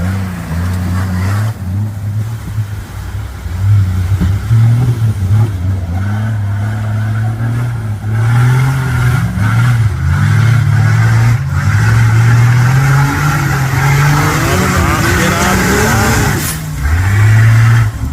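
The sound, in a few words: rally truck engine revving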